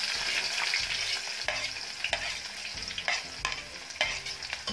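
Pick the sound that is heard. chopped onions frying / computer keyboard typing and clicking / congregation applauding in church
chopped onions frying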